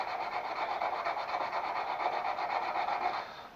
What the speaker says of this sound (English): We can do that with our little hand sander here, a little block, and just work it, or we can grab the DA and hit it with that